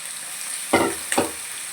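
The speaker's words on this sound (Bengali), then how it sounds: "এগুলোকে একে একে আমি ফ্রাই করে নিই" Two short hissing sizzles as diced potato and carrot for veg biryani hit hot oil in a pan, close and fairly loud, with quiet frying in between and no talk.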